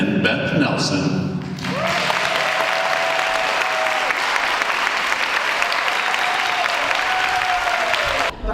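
An indoor audience claps loudly and continuously for several seconds to welcome the hosts onto a stage at a community show, the applause starting after a spoken introduction and carrying on at full strength until the end.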